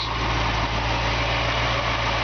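A 1967 Ford Mustang convertible with a recently rebuilt engine idles steadily and loudly close by, a smooth, even low rumble with no talk.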